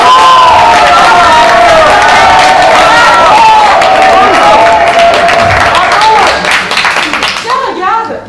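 During a stage play, people applaud healthcare workers at 8 pm with loud, continuous clapping mixed with cheers, whoops and shouting voices that fade a little near the end.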